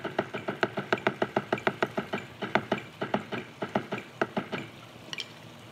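Drum strokes in a steady sixteenth-note check pattern on a practice surface, even clear hits repeating alone for several seconds with a few accented beats and a brief trailing pause.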